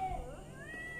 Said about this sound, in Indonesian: kucingnya banyak sekali.